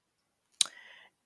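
Single crisp computer mouse click, close and quiet, followed by silence.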